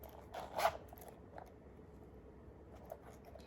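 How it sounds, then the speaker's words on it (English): A single quick pull on a Chanel mini square lambskin handbag zipper, brief and soft, followed by faint rustling against a quiet background. "It has a zipper right here in the middle."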